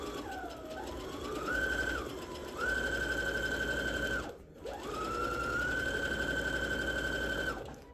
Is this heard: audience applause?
no